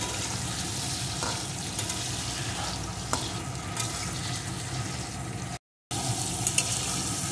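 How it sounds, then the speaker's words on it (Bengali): Prawns frying in hot oil, a dense, even sizzle holding close and steady throughout with a few faint clinks, broken by one brief silent gap. "এখন চিংড়ি মাছগুলোকে আমি ভেজে নেব"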